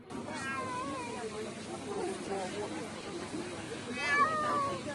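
A cat rescued from rubble after a strike in Dnipro, Ukraine, meows twice, near the start and again near the end, over a steady noisy background with talking throughout.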